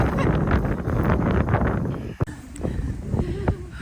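Strong wind on an open mountain ridge of the Roan Highlands roars across the microphone in a loud, low rumble, with a short lull before the gusts pick up again.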